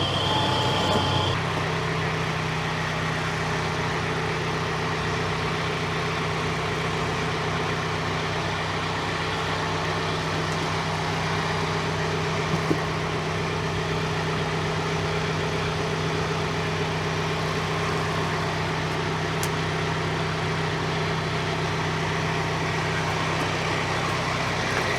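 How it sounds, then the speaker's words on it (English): Air-conditioned tractor running steadily while moving equipment at low speed, a constant droning engine hum with a brief startup shift at the beginning, moderately loud and unbroken, no voices. "what you really want to see is repetitive footage of a tractor moving stuff at 3 miles an hour"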